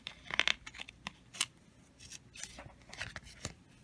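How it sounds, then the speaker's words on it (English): Scissors snipping the sticky ends of tape wrapped around an electric cord, a quick series of close, crisp cuts and light rustling, quiet overall. "I'm just going to trim these ends off,"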